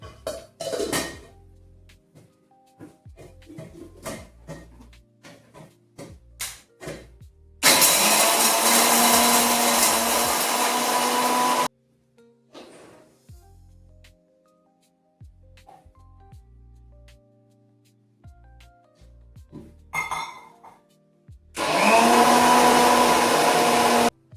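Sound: mixer grinder running

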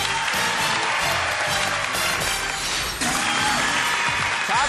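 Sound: studio audience applause for quiz contestants

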